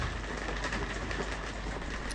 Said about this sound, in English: Just listen to that rain.